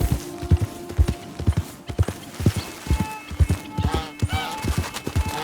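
Horse hooves clip-clop at a galloping gait in Red Dead Redemption 2, a rhythmic series of hoofbeats with a brief whinny-like tone partway through, moderately close and steady throughout.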